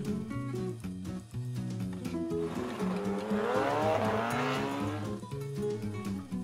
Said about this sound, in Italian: Prendiamo uno scooter giapponese per andare all'appuntamento.